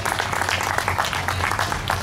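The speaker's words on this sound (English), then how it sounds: "Give them a round of applause for that." Audience applause at an award presentation, a steady, dense wash of clapping from a crowd in a hall, moderately loud throughout with no voices over it.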